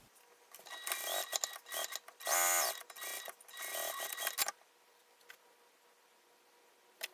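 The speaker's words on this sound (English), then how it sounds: "So let's go ahead and top stitch this" A sewing machine top stitches an apron flap in several short, whirring bursts with one longer run in the middle, then stops, leaving a quiet room with faint ticks.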